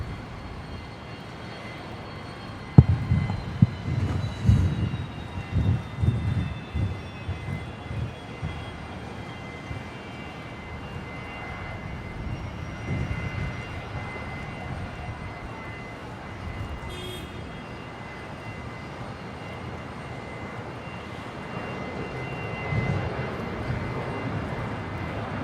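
A Rex airliner rolls for takeoff at Brisbane Airport, its engine roar swelling from a distance, rumbling strongest early on, then easing to a steady fading drone with faint high whines.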